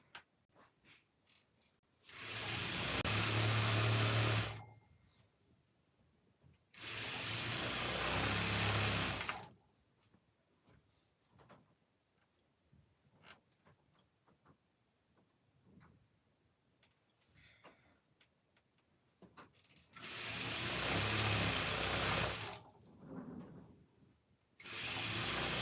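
Sewing machine stitching a tutu with lavender thread, running in three loud, steady bursts of a few seconds each, separated by quieter stretches of faint clicks and handling noise.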